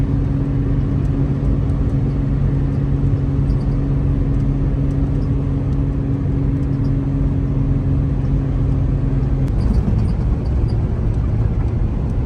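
A car cruising on a scenic road-trip highway gives a steady, loud, even drone of engine and road noise, with a low hum that shifts slightly near the end.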